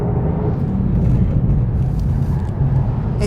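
Vauxhall VXR8 V8 saloon accelerating on a track, a loud, steady low engine roar building continuously without pause, dense and close throughout.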